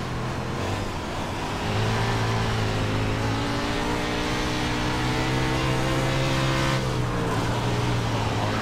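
410 sprint cars race on a dirt oval in the iRacing simulator, with a loud, sustained engine drone whose pitch rises and falls as the throttle changes, running continuously without talk.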